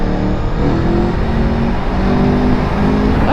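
A big motorcycle accelerates onto a highway, a loud, steady engine roar with wind rumble that holds without letup throughout, with no talking.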